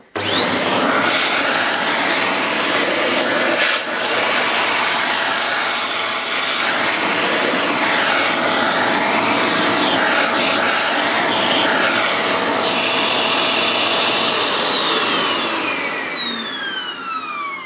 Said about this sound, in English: I can actually use that now to clean the crevices